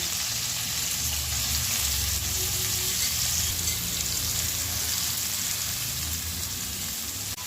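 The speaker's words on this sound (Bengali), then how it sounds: "লঙ্কা কুচো দিয়ে দিলাম এবং পেঁয়াজ এবং ক্যাপসিকাম এই সাদা তেলে আমি দিয়ে দিলাম।" Chopped onion, capsicum and green chilli frying in white oil for chilli chicken, a dense and steady close-up sizzle that holds evenly throughout with faint stirring and no voices.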